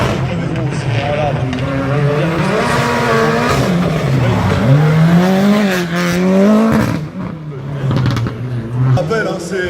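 Touring car at full speed on a rally special stage, its engine note rising and falling through gear changes, loud and close, with a commentator talking over it throughout.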